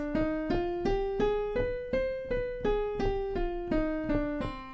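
A C harmonic minor scale rises and falls on a piano, one clear note at a time at an even, moderate pace.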